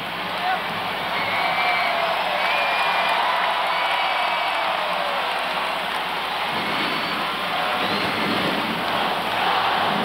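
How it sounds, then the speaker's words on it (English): Warm applause from a basketball crowd at a 2005 UAAP game between FEU and DLSU, a steady, broad hiss of clapping that fills the whole stretch and swells partway through, with a commentator talking over it. "And Yao gets a warm round of applause for a valiant effort."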